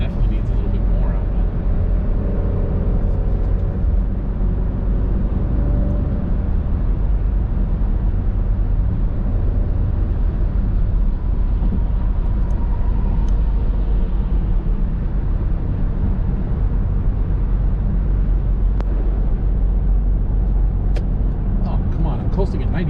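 Loud, steady engine roar from a 2015 Jeep Grand Cherokee SRT accelerating hard in track mode, a dense continuous drone filling the whole stretch with a voice talking over it.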